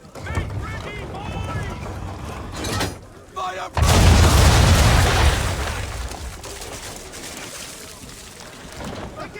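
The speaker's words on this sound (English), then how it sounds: "Bring around broadside, and when all guns are on target, call fire. Round shot for a start!" A cannon broadside of round shot erupts in Assassin's Creed 3 with a sudden heavy boom and rolling rumble that trails off over several seconds. Before it, a voice speaks amid wind and creaking naval ambience.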